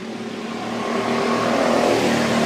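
A field of dirt track race cars pours out of turn 7 at Pats Acres, a dense engine roar of many cars that swells steadily louder as the pack draws nearer, with no talk.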